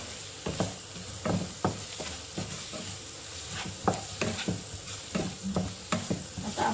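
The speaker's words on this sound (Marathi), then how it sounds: "ते व्यवस्थित तेलावर आपण परतून घेऊ." Eggplant bharta masala sautés in hot oil, a soft continuous sizzle broken by regular scraping strokes of a spatula stirring the pan, close and steady with no voices.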